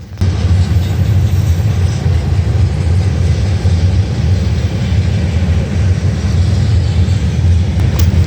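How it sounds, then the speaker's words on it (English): Old hopper cars on a Norfolk Southern freight train roll steadily past nearby, a loud, continuous low rumble with faint rhythmic wheel clatter throughout. "Coming up here, we have some more pretty old hopper cars."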